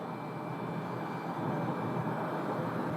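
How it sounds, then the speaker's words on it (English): A Cessna light aircraft taking off from runway 21 at Scottsdale, a steady broad engine roar that holds level and swells slightly toward the end, heard from a distance with no talk. "that's the Cessna from St. Paul"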